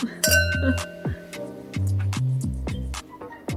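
Wine glasses clink together in a toast, several light bright chimes with ringing tails spread across a few seconds, close and clear over background music with no talk.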